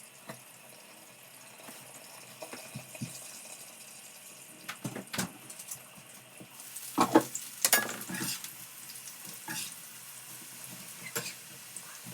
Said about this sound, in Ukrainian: поки досмажується та картопля